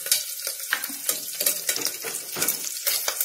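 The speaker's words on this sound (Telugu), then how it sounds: "పచ్చిమిర్చి కొంచెం వేపుకోవాలి." Green chillies fry in a pan for a mutton masala dal, giving a close, steady sizzle broken by quick scraping stirs against the pan.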